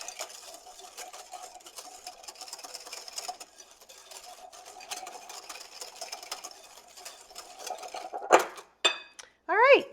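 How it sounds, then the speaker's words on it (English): A whisk or spoon rattles quickly and rhythmically against a bowl while mixing madeleine batter with lemon juice, a dense, close clatter, followed by a few brief squeaky scrapes at the end. "And we're also going to add our lemon juice. So we'll just give this a quick mix."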